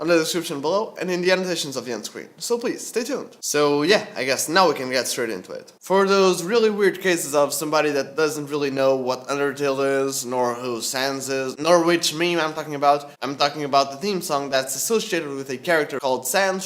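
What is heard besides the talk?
No distinct noise like a dog, phone or traffic.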